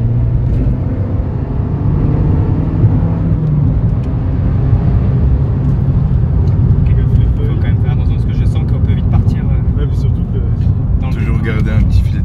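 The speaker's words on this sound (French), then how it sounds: "À l'arrière, on entend mieux l'échappement." Abarth 595 Pista fitted with a stainless steel Monza exhaust line, a steady engine and exhaust drone heard from the rear while driving, continuous and fairly loud, with people talking over it.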